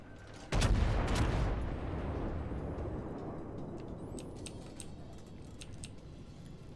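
Heavy battleship main guns from World of Warships fire in one loud booming salvo, then a long rumbling decay with faint high game interface chirps trailing behind.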